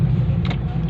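A road vehicle rumbles past nearby with a steady low engine drone and a brief brighter swell midway, heard alone without voices.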